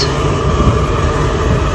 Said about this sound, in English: See if it ignites, and there we go. Gas came through.